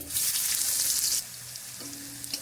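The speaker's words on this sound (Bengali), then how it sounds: "রাঁধুনিটা আমি একটু লাল করে ভেজে নিয়ে দিয়ে দিচ্ছি রসুন থেতো করে" Crushed garlic cloves sizzle loudly in oil left over from frying fish, a bright hissing burst that settles into a quieter steady frying crackle.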